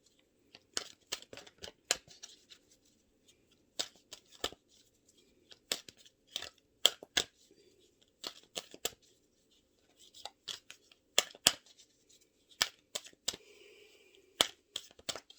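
Tarot cards being shuffled and cut, a long run of sharp, quiet snaps and flicks in irregular bursts with short gaps, close and alone with no talking.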